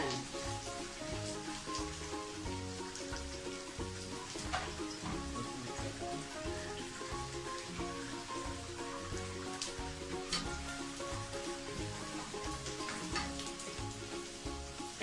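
Onion fries in butter with ginger and garlic, a steady close hiss and crackle of sizzling fat running throughout with no pause.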